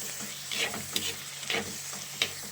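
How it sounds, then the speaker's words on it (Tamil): Onion and tomato sauté in a pan with a soft steady sizzle, broken by a few scraping spoon strokes against the metal, close and quiet, no voices. "தக்காளி ரொம்ப வதங்க தேவையில்லை, லைட்டாக வதங்கினா போதும்."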